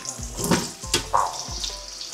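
Chopped onions drop into hot oil in a home kitchen pan and sizzle, with a few loud bursts of frying and stirring noise over about two seconds, close and without talk.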